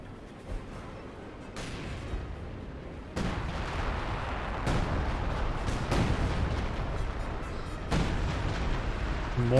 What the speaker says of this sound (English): More major artillery.